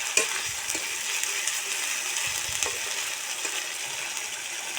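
A paste of ground chili, onion and garlic sizzles and crackles in a hot pan while being stirred, a steady close frying hiss with small scraping ticks and no voices.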